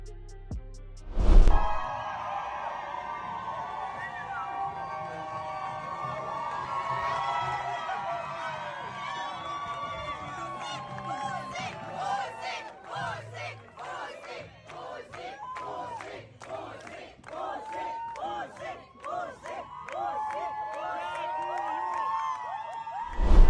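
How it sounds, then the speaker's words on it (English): A crowd roars and cheers as boxer Oleksandr Usyk departs, with a loud burst at the start, sustained shouting and chanting voices, and rhythmic clapping building through the middle and continuing to the end. "Usyk was greeted with a heartfelt crowd upon his departure"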